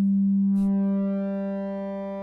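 Synthesizer waveform passed through a Flamingo module with its fundamental removed, a steady tone made of stacked harmonics that holds evenly and fades slightly, with a brief noisy click near the start.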